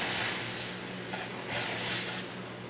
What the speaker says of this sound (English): then you add your tomatoes. Stir it up a little bit.